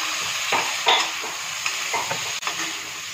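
Tomatoes going into a hot frying pan for a prawn curry made with Amul fresh cream, giving a steady hiss of sizzling oil with a few stirring scrapes and small bursts, close and moderately loud, with no talking.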